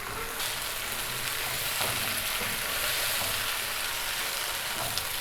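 Potatoes and chicken sauté over a high flame in a pan for biryani, giving a steady, close sizzle and crackle that runs unbroken throughout with no talking.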